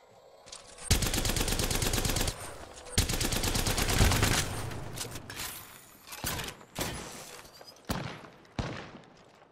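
Rapid automatic gunfire from Apex Legends in loud sustained bursts, then several sharper single shots and short volleys spaced apart, with no one talking.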